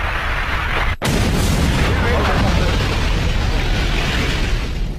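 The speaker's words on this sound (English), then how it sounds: "I took cover, and then in seconds a massive explosion." A massive explosion at a station during a Northern Ireland attack rips through as one sharp, very loud blast, then a long roaring, rumbling wash of debris and noise that fills the rest of the clip.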